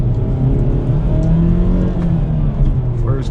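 A 2023 Hyundai Elantra N pulling in first gear, a steady droning engine note climbing gradually under cabin noise, close and loud from inside the car.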